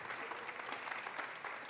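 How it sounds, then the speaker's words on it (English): Audience applause at an honors day recital, a steady, dense clapping from a seated crowd that fills the whole stretch at an even, moderately distant level. "So let's give them all a wonderful round of applause."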